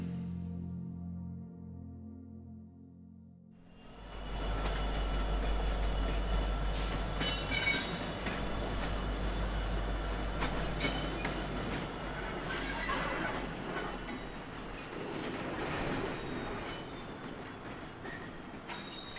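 A train runs along the rails, heard as a sustained deep rumble with rhythmic clickety-clack and faint wheel squeal, rising in after a quiet opening and then staying loud and steady.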